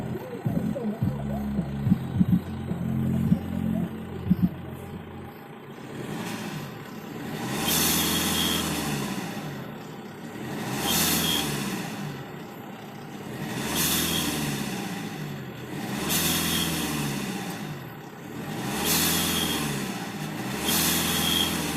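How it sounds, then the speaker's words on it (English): A turbocharged Tata Harrier engine is revved repeatedly, a few brief sounds giving way to about six rising and falling exhaust swells in a regular rhythm, close and fairly loud, with no one talking. "Now we will listen to the exhaust note of this car."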